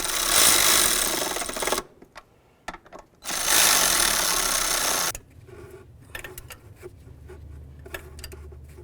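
A power tool drives in the bracket mounting screws on a 2009–2020 Dodge Journey in two loud, steady whirring bursts of a couple of seconds each, followed by quieter clicks and handling noises.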